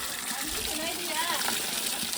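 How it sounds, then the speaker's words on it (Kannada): Water left running flows and gushes steadily at moderate distance, a soft continuous wash with people talking over it. "ನೀರು ಹೋಯ್ತಾ ಇರೋದು ಕಾಣಲ್ವ ನಿನಗೆ?"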